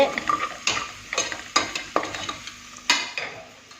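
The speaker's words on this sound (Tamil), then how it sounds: "ப்ரௌன் கலர்ல நல்ல வெங்காயம் நல்லா வணங்கி வந்தாதான் அதுதான் பிரியாணிக்கான டேஸ்டே" Onions browning in a pan for biryani sizzle softly beneath repeated sharp scrapes and clinks of a spatula, stirred in an uneven rhythm.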